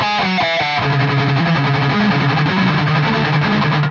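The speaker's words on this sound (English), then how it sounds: "Just do the artificial harmonic thing, glance the string, and it'll just end up sounding cool if you've got a decent amount of distortion." A heavily distorted electric guitar plays a riff, with artificial harmonics glanced off the strings. A few choppy opening stabs give way to a dense, sustained, driving line.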